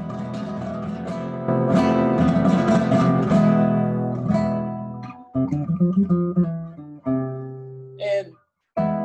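Nylon-string classical guitar played alone up close, a mellow run of plucked notes and chords ringing together, then a few separate picked notes with short pauses before a final brief strum.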